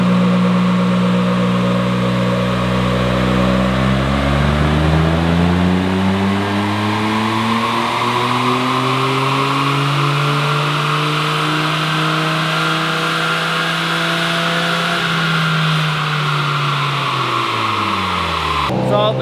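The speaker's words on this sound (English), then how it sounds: "So the car is misfiring a little bit on cylinder 2." A GR Corolla engine misfiring on cylinder 2, revving up to a held high pitch, then slowly easing back down, loud and close with no talk.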